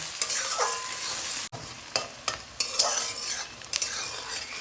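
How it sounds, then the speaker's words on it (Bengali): Chopped onions fry in a pan while a spatula stirs them, steady sizzling broken by several distinct scraping strokes and one brief cutoff partway through, close and clear with no speech. "এর মধ্যে আমি এই কোচানো পেঁয়াজগুলোকে দিয়ে দেবো পেঁয়াজগুলো একটু লালচে লালচে হবে তার জন্য আমি এটাকে ভাজতে থাকবো"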